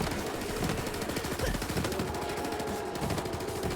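A corrosive weapon in the video game Borderlands 3 fires in fast, continuous automatic bursts, dense and loud throughout, with faint game noise underneath.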